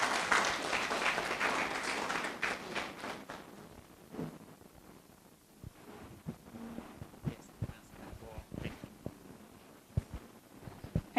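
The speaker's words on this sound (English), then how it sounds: "Please, let's give her a round of applause." A graduation ceremony audience applauds a student speaker: dense clapping at the start thins out within a few seconds, leaving scattered, separate claps and small knocks that keep going in the quieter room.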